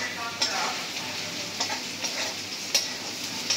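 Food frying in a pan at home, a steady close sizzle with a few sharper stirring scrapes breaking through.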